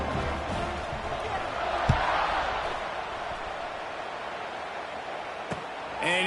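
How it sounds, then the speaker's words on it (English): Steady crowd buzz fills a stadium in a college football video game, a broad constant roar with a couple of sharp thumps, under commentary. "this crowd is buzzing after that last score"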